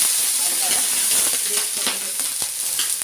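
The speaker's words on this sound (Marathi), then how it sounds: "थोडं पाणीचा चटका मारते" Water splashed onto a hot, oiled tava in a home kitchen sets off a steady, close sizzle and hiss that fills the whole stretch, with small crackling bursts rising and falling throughout.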